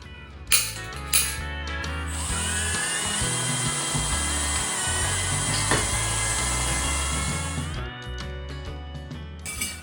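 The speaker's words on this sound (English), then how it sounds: "Time to drill some holes to secure the axle." A power drill bores holes to secure an axle on a KTM 450-powered buggy frame, a long whining drone with a few sharp clicks before and after, heard up close.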